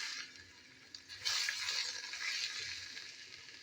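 Mango pieces fry in hot oil with five-spice seeds and turmeric for a mustard and green chilli mango pickle, a faint sizzle that swells into a louder crackle partway through before settling, with no voices.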